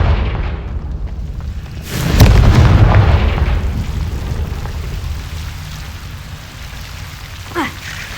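A Confringo spell explosion in Hogwarts Legacy lands as a single deep boom about two seconds in, rumbling and fading over a soft, rain-like hiss of background ambience.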